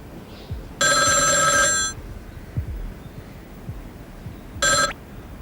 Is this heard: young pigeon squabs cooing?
no